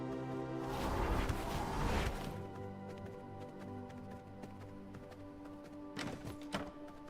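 Horse hooves clip-clop in the video game V Rising, a short run of soft hoof thuds under steady game music and ambient tones.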